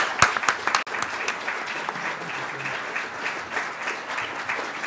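Audience applause after a Q&A session, a steady wash of many hands clapping that holds for the full stretch, with a few sharper claps near the start.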